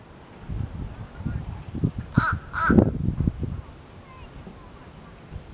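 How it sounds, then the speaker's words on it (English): Two sharp, loud crow-like bird caws ring out in quick succession close by at Lovers Key, Florida, with quieter wind and low rumbling around them. "Quite the squawk you got there, mister."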